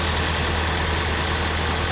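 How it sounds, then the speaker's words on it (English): Idling SR20DET engine with an air leak from a vacuum line, a steady broadband hiss over a low engine drone, with a brighter high hiss in the first half-second that then drops away. "there is a little bit of a leak, like an air leak, and it's with this line right there"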